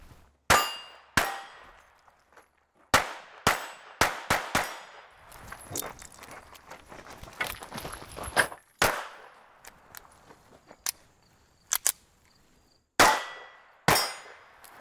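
Handgun shots at steel targets at close range during a timed shooting competition, sharp loud reports with ringing metallic clangs, fired in quick irregular strings with short pauses between.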